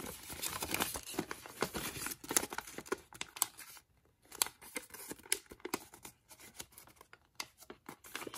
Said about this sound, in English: we're gonna reverse this fold into a mountain fold